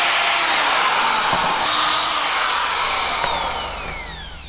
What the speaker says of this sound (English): then we'll be able to drill all of these holes.